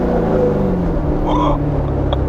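Corvette C7 Z06 with manual gearbox and open exhaust, a deep engine note rumbling close and loud, easing slightly before a brief higher tone near the end.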